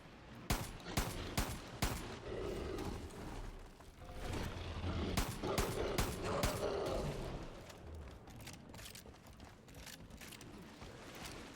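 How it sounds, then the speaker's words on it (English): Shotgun fire from the Far Cry New Dawn video game: a rapid run of loud, sharp blasts with crackling impacts and mechanical clatter, bunched closely in the first half and easing into a lower rumble of combat noise. "Shotgun, shotgun, baby."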